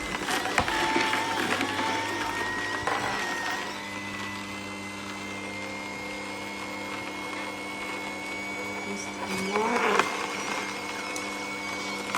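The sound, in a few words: electric juicer grinding ginger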